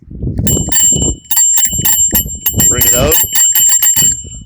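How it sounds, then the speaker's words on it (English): Handlebar bell on a Trek Dual Sport Plus bicycle rings in several bright, close metallic dings with a long sustained tone, mixed in among a man's speech. "It's a bell."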